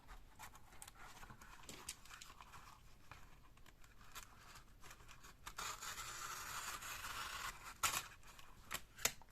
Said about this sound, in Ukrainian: Ви можете вирізати ножицями.